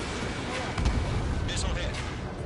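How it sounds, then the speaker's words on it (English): Missile launch and impact in the Ace Combat 7 combat flight game: a dense roar of jet and weapon noise with a sharp booming burst near the middle, steady and loud throughout. "Missile launched. Fox 2."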